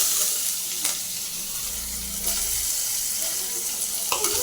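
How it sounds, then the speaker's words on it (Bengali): Chopped onions fry in a pan of oil with whole cumin and two dried red chillies for moong dal with fish head, giving a steady close sizzle with a few brief clinks. "পেঁয়াজগুলো একটু ভেজে নেব।"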